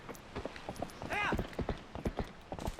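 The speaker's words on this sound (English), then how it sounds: "And also back to riding a horse, which is nice." Horse hooves clopping at a steady walking rhythm while riding in the video game The Legend of Zelda: Twilight Princess, a series of close, moderately loud thuds with a brief tonal flourish in the middle.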